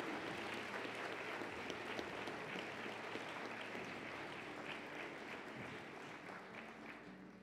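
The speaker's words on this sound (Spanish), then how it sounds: "Vamos a tributarle este caluroso aplauso a nuestros destacados funcionarios del plantel." Sustained applause from a large audience at a university anniversary ceremony fills the hall, dense and even from start to finish, heard from some distance without any voices over it.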